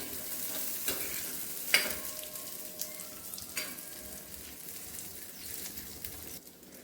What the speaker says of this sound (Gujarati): કાજુનો કલર બ્રાઉન થાય ત્યાં સુધી આપણે તેને શેકવાના છે